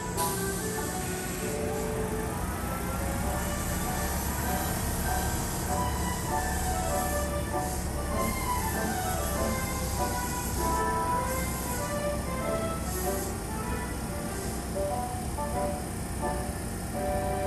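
Kintetsu Blue Symphony limited express train pulling into a station platform, a steady rumble with rail and wheel noise filling the scene throughout, close and continuous with no talk.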